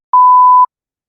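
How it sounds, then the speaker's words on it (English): Censor bleep masking a swear word in a college football playoff discussion: a single steady electronic tone lasting about half a second, loud and clean, with silence before and after. "We beeped it out."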